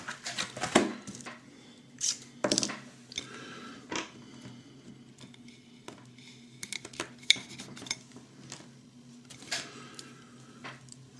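Ceramic dishes and a deep plate clink and clatter as they are handled, with sharp scattered knocks and light rattles over several seconds, fairly close and moderate in level, with no talking.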